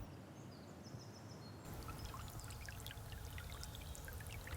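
River water flowing on a calm morning, quiet at first, then a fuller, steady rushing with small splashing trickles close by.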